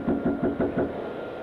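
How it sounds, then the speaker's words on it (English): A man knocks on a front door, picked up by a doorbell camera: five evenly spaced knocks in a steady rhythm, close and fairly loud, followed by quiet. "Then he knocks again."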